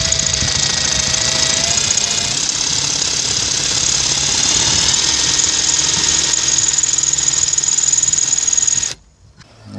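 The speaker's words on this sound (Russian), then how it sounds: "Будем саморезы высверливать." A power drill bores out rusted self-tapping screws holding the licence plate light on a Daewoo Matiz, a loud, close, high-pitched whine with rattling vibration that runs continuously and then stops abruptly near the end.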